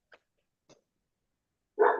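A dog barks in the background during an online spiritual study class: two faint, brief yips, then one louder, fuller bark at the very end.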